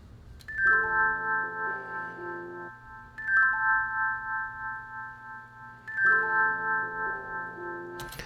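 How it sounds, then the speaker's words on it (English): Chill hip hop beat built on bright bell tones: a repeating melodic bell phrase over sustained low notes, looping twice with a steady rhythm, clear and upfront with no voices. "The bells are super cool."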